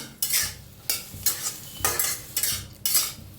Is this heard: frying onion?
yes